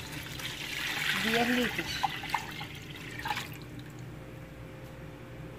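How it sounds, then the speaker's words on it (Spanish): Water is poured over cut kiwi fruit for homemade kiwi yogurt, a steady splashing pour that swells for a couple of seconds and then fades, with a few drips and a voice speaking briefly. "Ahora le voy a echar la cantidad de agua."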